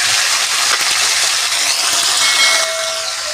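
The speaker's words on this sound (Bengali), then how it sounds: "লঙ্কাটা ভাজা হয়ে গেছে, আমি কেটে রাখা টমেটো এর সঙ্গে দিয়ে দিচ্ছি।" Chopped tomatoes hit a pan of hot, fried chilies, setting off a loud, continuous sizzling hiss that eases slightly toward the end.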